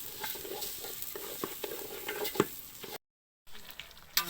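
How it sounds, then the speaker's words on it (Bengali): Meat, rice and lentils stir-frying in a pot for khichuri, a steady close sizzle with scraping stirs and clinks, briefly cut to silence before the frying resumes. "মাংসটা কষানো হচ্ছে"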